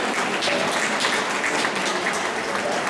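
A school audience gives a teacher's performance a dense, loud round of clapping that holds steady for about three seconds with no voices.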